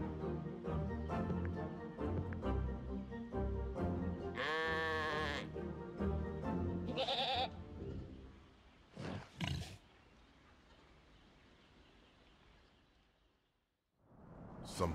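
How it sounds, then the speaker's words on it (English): Several sheep bleat in wavering, drawn-out cries over a busy layered background in the PC game Orwell's Animal Farm, then the sound thins out and fades near the end. "the chanting of the sheep will remind them"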